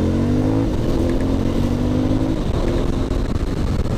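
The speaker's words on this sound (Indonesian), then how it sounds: "Jadi kalau kita lagi RPM tinggi nih, mau kenceng, kita bisa pindah gigi halus" Aprilia Shiver 900 naked motorcycle revving hard at high RPM, a loud close engine drone climbing steadily in pitch, then a quick shift drops the tone and it keeps pulling under throttle.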